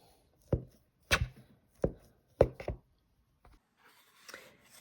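Butter being cut into dough for cinnamon rolls, heard as four or five distinct close knocks of a utensil against a bowl or board, with quieter shuffling after.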